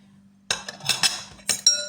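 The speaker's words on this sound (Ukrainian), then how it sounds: "Це все добре перемішуємо." A spoon clinks and scrapes against a bowl, mixing batter of flour, salt and pepper in several quick, uneven strokes, close and fairly loud, with no talking.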